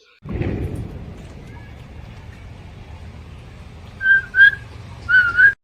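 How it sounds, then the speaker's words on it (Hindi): Someone whistling in short high-pitched bursts, a brief note early then several louder repeated tweets near the end, fairly close, over a low rumbling background after an initial thump. "देखते रे कौन सीटी मारता"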